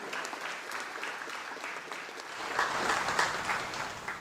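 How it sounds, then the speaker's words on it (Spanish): A congregation at Mass in the Basilica of Caacupé applauds during the first day of a novena, a faint, distant patter of clapping that swells slightly toward the end. "para todos un fuerte aplauso para ustedes"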